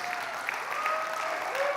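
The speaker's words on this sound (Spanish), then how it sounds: "un aplauso a los papás" Brief applause for fathers at a Father's Day church service, steady moderate clapping from a congregation lasting under two seconds.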